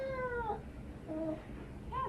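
A pet cat meowing during at-home rectal ozone therapy, giving two or three short, plaintive meows spaced apart over low room noise, with faint murmuring in the background.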